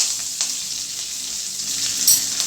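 Grated coconut fried golden in a pan with curry leaves added, for papaya pachadi: a steady, close hiss of sizzling oil with small crackles and pops, with no voices.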